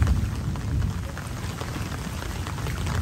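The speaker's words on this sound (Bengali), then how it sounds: "এই যে টিপ টিপ বৃষ্টি পড়তেছে, একটু বুঝতেছি, একদম ঝুম বৃষ্টি না" Light rain patters steadily onto an open rooftop during a monsoon evening, a dense, even wash of fine drops close by with no voices.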